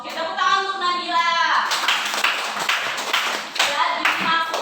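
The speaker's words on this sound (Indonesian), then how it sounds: "tepuk tangan untuk Nabila." Classroom applause for a student: a burst of many hands clapping, fairly close and lively, preceded by a teacher's voice and mixed with children's voices throughout.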